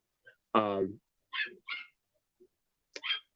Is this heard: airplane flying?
no